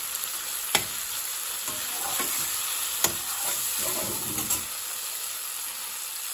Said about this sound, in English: So we're still cooking the spices well in here.